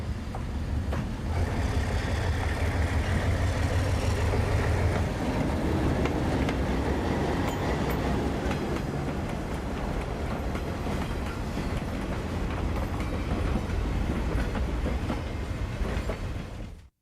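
An ALCO diesel locomotive hauls two empty rail cars, with a loud, steady rumble of the engine and rolling wheels close by, rhythmic clickety-clack over rail joints, and sustained mechanical drone for the full stretch without any voices.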